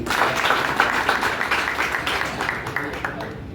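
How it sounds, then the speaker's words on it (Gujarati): A crowd at a public gathering in Pardi, a flower-tribute programme, claps for Vipulbhai. The dense, fairly loud applause has voices mixed in and fades slightly toward the end. "વિપુલભાઈના માટે જોરદાર તાળી."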